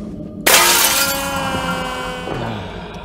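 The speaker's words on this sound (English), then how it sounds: "What I like doing, smashing mirrors and going in them randomly." Mirror glass shatters loudly in the horror game Visage, a sudden sharp crash followed by a long ringing, tinkling decay of falling shards, with a small second clatter near the end.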